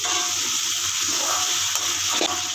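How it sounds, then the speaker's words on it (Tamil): Water pours into a cooking pan of tomatoes and salt for fish curry, a steady, close splashing gush with no voices. "கொஞ்சம் தண்ணி விட்டுக்கணும்"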